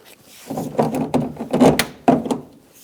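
A new side mirror being pressed onto the door of a 2006–2011 Honda Civic, a series of close plastic clicks, knocks and thunks spread over a few seconds, with one sharper snap near the end.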